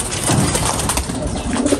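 Breeder pigeons coo repeatedly inside a pigeon loft, close and steady, with low throaty calls overlapping through a busy, noisy background.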